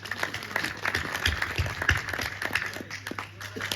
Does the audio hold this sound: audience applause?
yes